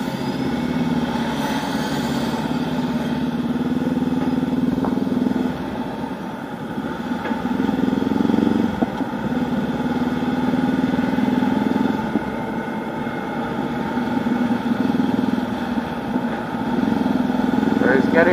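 A 2019 Honda CB500X motorcycle rides along a road in Shanghai, its engine droning steadily up close with surging and easing throttle, while someone talks over it.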